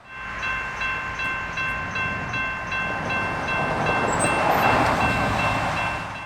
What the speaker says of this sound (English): Rolling through the sunset tonight would be nightly stack train IO44 out of Tampa